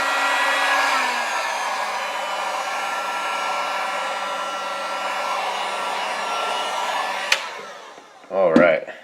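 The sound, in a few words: heat gun heating vinyl wrap on laptop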